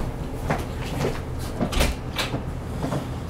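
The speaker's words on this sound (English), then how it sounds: "Let me open up my door 1 second." An apartment door is opened at close range, giving a few sharp clicks and knocks from the latch and handle over a dull room background, with no voices.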